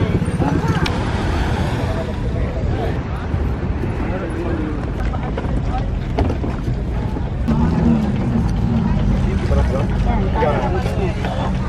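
A tour boat packed with passengers motors along at El Nido in the Philippines, its steady low engine drone running continuously under voices and chatter, with water and wind noise mixed in.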